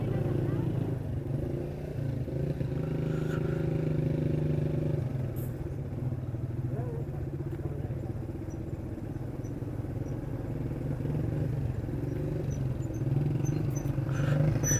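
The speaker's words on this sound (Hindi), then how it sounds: "ये भाई साहब ने हमारे आगे मोटरसाइकिल लगा लिया, अभी इतना शोर कर रहा है।" A motorcycle engine rumbles steadily close by, a constant low drone with faint clatter, while someone talks over it.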